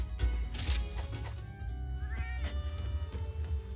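A Palico cat companion in Monster Hunter Rise: Sunbreak lets out a few meows, mixed in with game music and effects at a moderate level, with no talking.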